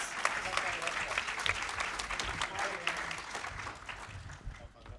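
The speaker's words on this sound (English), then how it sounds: "let's have a big round of applause for our new panel members." Steady applause from a live audience at PAX West, dense clapping that fills the whole stretch at a fairly even level, with some voices mixed in.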